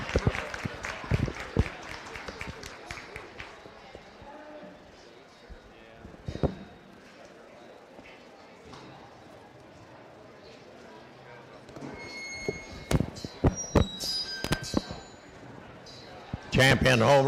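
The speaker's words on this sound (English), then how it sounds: "Let's give them a nice round of applause for a job well done." An audience at a county beef show claps in scattered bursts, loudest at the start and again toward the end, with a quieter stretch in between and people talking over the hall.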